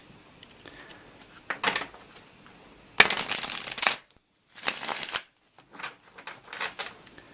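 Tarot cards shuffled in a few distinct riffling bursts, close and crisp, separated by brief pauses and light handling sounds.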